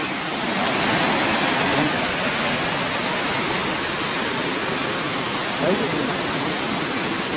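A steady, broad rush of water flowing into a village tank near Vaddakachi in Kilinochchi, loud and continuous throughout with no pauses.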